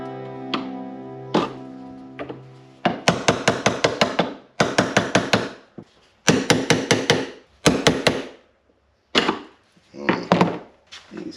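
Repeated sharp hammer blows on a cheap chisel, driving it to pry loose a stuck handle, struck in quick bursts of four to eight hits separated by short pauses, close and loud with ringing metallic ticks before the first burst.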